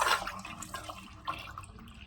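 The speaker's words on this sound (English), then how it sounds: "Now let's carefully pour it all at once." Homemade aluminum cleaning detergent mixture pouring in a quick liquid splash that fades into light dripping and trickling, fairly quiet and close, with no talk.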